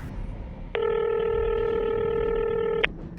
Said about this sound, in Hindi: अगली सुबह संगीता ने अपने एक दोस्त को फोन किया